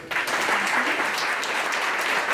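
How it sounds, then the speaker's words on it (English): A conference audience applauds after a talk on QA and continuous delivery, brief dense clapping from a room of people that starts abruptly and holds steady for a couple of seconds. "let's go ahead and give one more round of applause for Tim."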